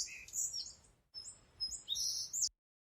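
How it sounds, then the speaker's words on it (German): Bird singing in a tree: bright, high chirping phrases in two bursts separated by a short pause, fairly close and clear over a soft background hiss, ending abruptly. "Der Vogel singt im Baum."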